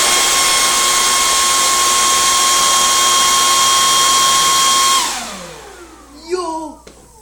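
A leaf blower aimed at a fidget spinner gives a loud, steady high-pitched whine that winds down after about five seconds, followed by a few brief clattering and squeaking sounds.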